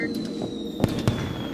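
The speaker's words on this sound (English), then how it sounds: "They activated the fireworks to warn" Fireworks go off in a video game as a few sharp pops and crackles over a steady tonal background hum, two distinct bangs standing out at moderate loudness.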